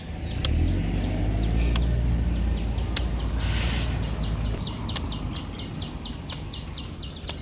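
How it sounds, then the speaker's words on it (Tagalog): A bird in a Philippine village repeats quick, high chirps in a steady rhythm over a low rumble like distant traffic, with a few sharp clicks. "Ang maririnig mo'y huni ng ibon."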